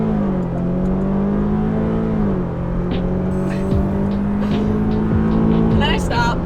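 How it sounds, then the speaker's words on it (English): Fast car accelerating hard with the gas pedal floored, engine drone rising then steadying in a loud, close, sustained whine, while people talk over it. "floor the gas. Like all the way"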